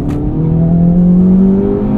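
Inside a 2024 Acura Integra Type S, the engine revs loudly and smoothly with auto rev matching during a downshift, its tone rising and shifting over a continuous drone close to the cabin.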